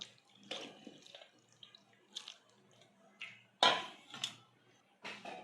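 Water is sprinkled in small bursts into a hot cooking pan, producing brief hissing sizzles and drips in an irregular pattern, fairly quiet and close.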